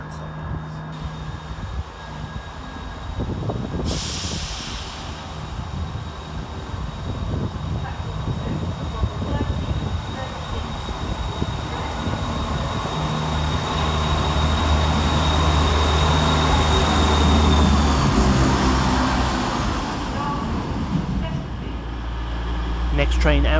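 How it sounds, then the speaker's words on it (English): A passenger train, an East Midlands Railway Class 170 departing Leicester station, rumbles steadily with a low engine drone and hiss, growing louder midway then easing, with a hum of station ambience and distant voices. "Next up for departure is 170-531, working the 1338 East Midlands Railway service to Grimsby Town"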